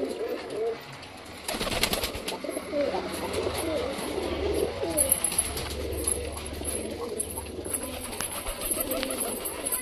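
Pet pigeons coo and call in soft repeated bursts nearby, with brief rustling and clatter early on and a low background hum throughout.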